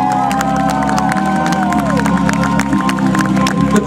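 A live show audience at a Latvian event claps and cheers loudly and continuously, a dense roar of applause with shouts and whistles throughout.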